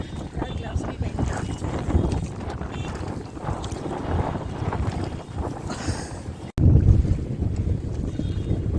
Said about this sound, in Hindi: नैनीताल आए और हम बोट राइड में गए।